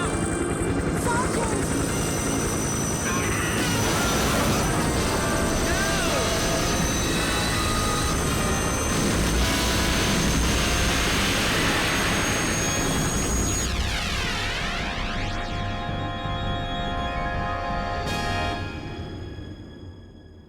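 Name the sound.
helicopter shot down and crashing, Carrier Dreamcast video game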